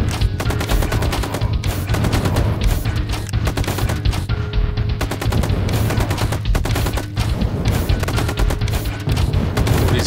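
Sniper rifle and other gunfire in the zombie shooter game Zombie Wars: Invasion, loud dense rapid bursts of shots filling the whole stretch with barely a pause.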